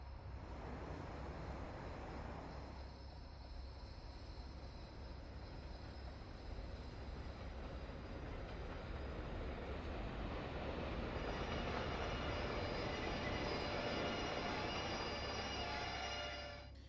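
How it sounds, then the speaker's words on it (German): A train hauled by two green Krokodil electric locomotives arrives in the Train Simulator Classic game, its rolling rumble building steadily, with wheel squeal and rail noise growing louder toward the end before easing off. "Und da kommt auch schon unser zweiter Zug. Mit den zwei grünen Krokodilen."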